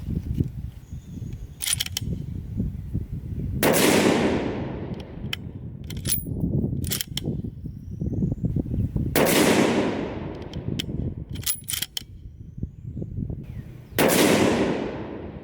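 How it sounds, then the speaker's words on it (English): Three sharp, loud rifle reports from a Ruger M77 Mark II in .22-250 firing factory ammunition on a range, spaced several seconds apart, each with a quick decaying tail over steady outdoor background noise. "This rifle's fun to shoot"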